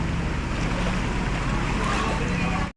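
Strong floodwater surges after heavy overnight rain in a constant loud roaring rush that fills the whole clip, close by, then cuts off abruptly at the end.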